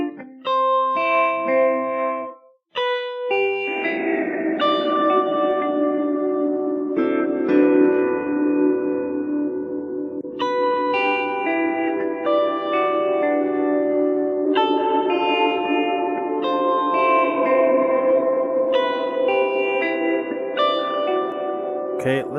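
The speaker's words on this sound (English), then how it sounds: "some sounds of this awesome new reverb by Zak Sound" Sustained synth-like chords sound through a new Zak Sound reverb plugin set to a shorter decay, each chord ringing out and fading with a brief tail before the next begins.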